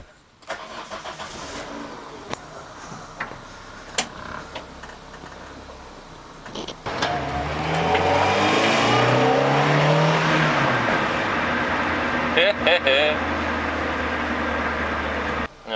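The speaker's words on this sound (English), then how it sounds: "let's start the car and go" Quiet clicks and rustling, then a Citroën AX 16V engine cranks and starts, settling into a loud idle as the revs rise and fall; no talking.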